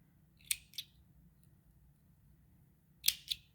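Scissors snip through a handmade lace flower piece in two quick pairs of crisp, close cuts, with quiet pauses in between and no one talking.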